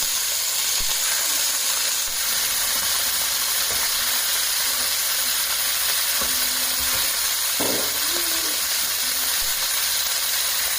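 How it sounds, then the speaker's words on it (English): Beef rouladen fry in pans with a steady, loud sizzle and hiss throughout, broken by a few soft scrapes and clinks of a utensil stirring. "we're going to fry them up in these pans here in a few minutes"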